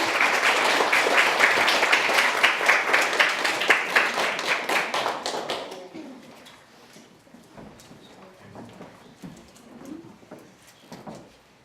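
Crowd applause at a school reading contest awards ceremony in Zwierzyniec, Poland, loud and steady for about six seconds before fading to scattered claps and quiet room noise.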